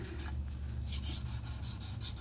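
Faint, quick rasping strokes of 1200-grit sandpaper by hand on a car headlight lens repeat in a steady back-and-forth rhythm.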